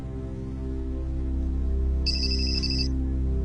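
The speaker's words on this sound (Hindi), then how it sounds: "ये लो फोन आ गया वकील का" A phone rings on screen in a Turkish drama scene, its electronic ringtone sounding for just under a second over a steady low background hum, with no talking.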